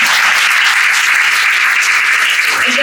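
A church congregation at a Sunday worship service bursts into loud, dense applause, a steady close roar of many hands clapping that holds throughout before easing slightly at the end.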